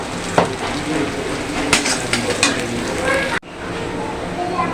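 Onion frying in a hot pan with whole cumin and whole spices, giving a steady, loud sizzle with a few sharp crackles and pops before the hiss briefly cuts and resumes.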